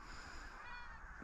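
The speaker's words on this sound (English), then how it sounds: "We've shot at a few geese." Geese honking in flight during a September goose and duck shoot in Scotland, a steady run of calls over a continuous hiss of wind and field noise, fairly faint and without a break.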